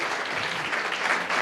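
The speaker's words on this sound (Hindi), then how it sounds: "आपकी ताली बड़ी छोटी है।" Church congregation clapping, a steady dense patter of many hands at moderate loudness, continuous for the whole moment with no voices standing out.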